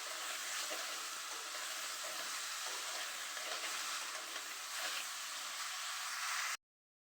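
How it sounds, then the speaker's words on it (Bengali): Eggplant frying with onion and chili in a pan, a steady soft hissing sizzle with occasional stirring scrapes, continuous until it cuts off abruptly near the end; no speech. "তো বেগুনটাও আমি পেঁয়াজ আর মরিচের সাথে একটু ভাজা ভাজা করে নেব,"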